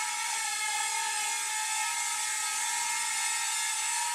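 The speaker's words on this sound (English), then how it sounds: "Pivoting the drone, I should say." SIMREX X300C quadcopter drone hovering and pivoting in place, its propellers giving a steady, loud high-pitched whine with a constant buzzing tone throughout, no voices.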